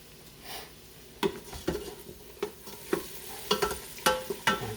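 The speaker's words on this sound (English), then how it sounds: "We'll give that a little stir." Floured chicken frying in a pan is stirred, with a soft background sizzle broken by a series of sharp scraping and clattering stir strokes, close and irregular, growing busier toward the end.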